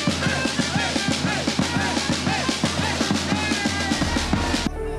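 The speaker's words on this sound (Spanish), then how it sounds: "la música también al ritmo de trompeta y tarolas" Trumpet and snare drum band music played at a pilgrimage on Cerro San Cristóbal, an insistent rhythmic beat with bright brass lines, continuous and fairly loud before cutting off near the end.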